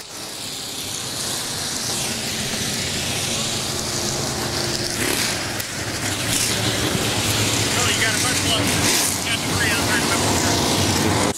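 Late model race cars roaring around a dirt track, a dense continuous engine drone from several cars bunched together, loud and sustained, with a commentator talking over it.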